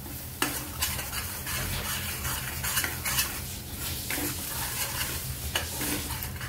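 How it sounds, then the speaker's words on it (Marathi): Paneer masala sautés in hot oil with turmeric, a constant sizzle broken by repeated scraping and clinking of a metal spoon against the pan, close and fairly loud. "त्यानंतर परतून घेऊ तेल सुटेपर्यंत"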